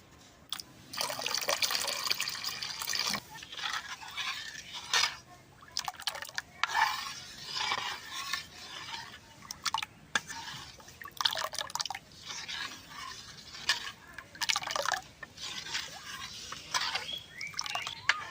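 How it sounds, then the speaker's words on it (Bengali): Water poured into rice flour batter and mixed by hand for a village pitha, giving irregular wet splashes, drips and squelches close by, coming in uneven bursts. "আমি অল্প আরো জল দিয়ে একটু মিক্স করে দিব"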